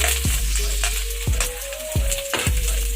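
Ginger hits browned garlic in a hot pan and sets off a steady, loud sizzle that runs throughout, broken every second or so by sharp stirring scrapes, with no talking.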